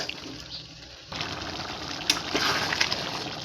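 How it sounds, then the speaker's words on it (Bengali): Water is poured into a curry simmering in a pot and stirred in. After a short quiet start, a steady, close gushing and sizzling liquid wash begins, with small stirring clinks. "এবার এর মধ্যে সামান্য একটু জল দিয়ে দিচ্ছি।"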